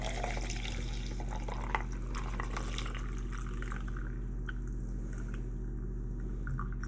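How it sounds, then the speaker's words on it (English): Coffee trickles and drips steadily through a filter close by over a constant low hum, a soft continuous pour with small splashes; no talking. "And then we pour the coffee through."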